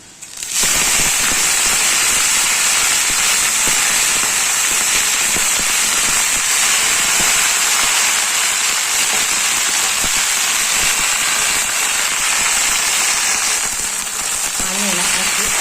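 Fenugreek greens hit a hot pan of roasted chilli and garlic, setting off a loud, steady, close sizzle that starts abruptly and holds evenly to the end.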